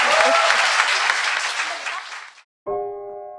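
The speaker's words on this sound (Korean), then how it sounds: "오늘 박수 부탁드립니다." Studio audience applause from a talk show, a dense burst of clapping that fades out after about two and a half seconds, followed by a short musical jingle.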